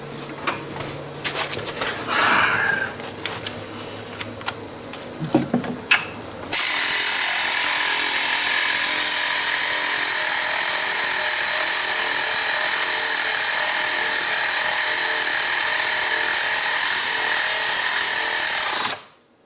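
Power tool or impact driver turning a socket on a bolt during clutch repair after a blown belt; scattered clicks and handling noise, then a long, loud, steady whir running alone until it abruptly stops.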